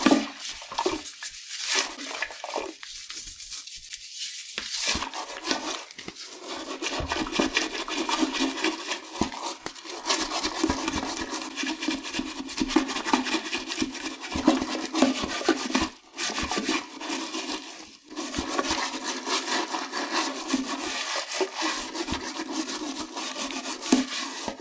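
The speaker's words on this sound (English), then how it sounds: "I'm going to scrub the whole back as well." Brisk, continuous brush scrubbing rasps against a toilet's porcelain while it is cleaned with baking soda and hydrogen peroxide, close and fairly loud with brief pauses between stretches of strokes.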